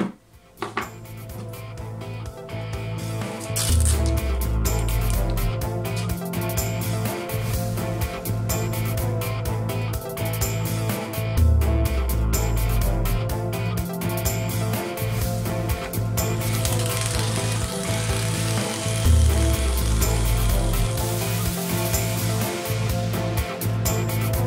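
Coarse sandpaper works a metal bolt in a home workshop, making a steady rough scraping with repeated stroke-like bursts that continue loudly for about twenty seconds, with no talking.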